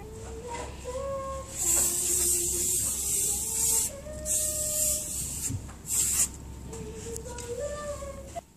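Short hissing bursts of aerosol fixative sprayed over a custom-painted pastel doll, several separate spritzes of a second or so with brief pauses between, close and fairly loud.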